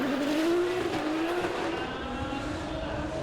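A drift car at a Formula Drift Japan qualifying round in Okayama launches from the start line with a loud revving engine and squealing tires, the pitch rising and then holding as it pulls away.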